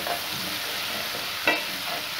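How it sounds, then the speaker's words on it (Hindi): Garlic sautés in a pan for a lentil dal tadka, giving a close, steady sizzle with a brief stirring scrape near the end and no voices. "ये जी लहसुन मेरा सोते हो रहा है, कलर चेंज कर रहा है।"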